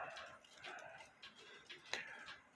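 A one-day Cuckoo Clock Manufacturing Company cuckoo clock, with a rack and snail and worn pivot holes, ticks steadily and faintly in a quiet room, with a slightly louder tick near the end.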